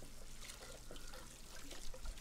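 Water running while dishes are washed, a faint, steady trickle and splash with small clinks, low and close, with no voices.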